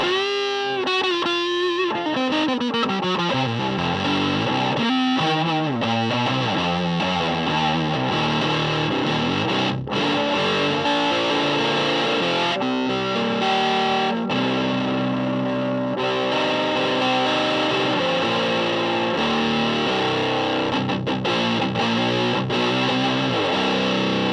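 Electric guitar played through a FuzzBeard Industries Tuskano DeLuxe fuzz pedal, thick and saturated, with chords and riffs ringing continuously and loudly throughout.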